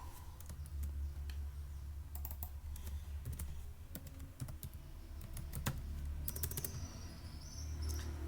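Keys tapped on a computer keyboard in uneven bursts over a steady low hum, close and fairly quiet, no one speaking.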